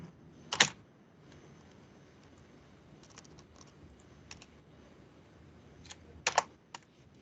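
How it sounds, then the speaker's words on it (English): Computer keyboard typing during an SQL injection demonstration, sparse soft key taps with a few louder clacks near the start and end, close and quiet with no talk. "I'm not typing in admin as my username."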